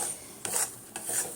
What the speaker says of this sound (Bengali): এইভাবে কন্টিনিউ আমি নাড়তে আছি, নাহলে নিচে লেগে যাবে।